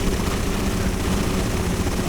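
Helicopter in the video game GTA Vice City Stories, a loud, dense rotor and engine roar holding steady throughout without any talk.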